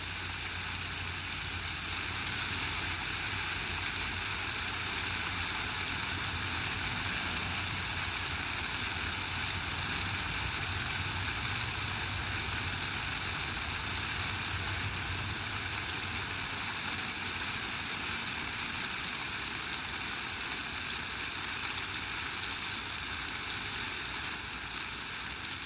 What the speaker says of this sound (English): we got a jet of water.